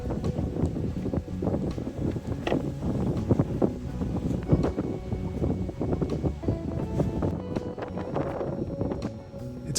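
Wind buffets the microphone aboard a Lagoon 60 sailing catamaran at sea off Mallorca, a steady rough rush with gusty bursts, creaks and knocks from the boat throughout.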